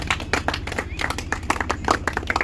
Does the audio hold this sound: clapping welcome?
yes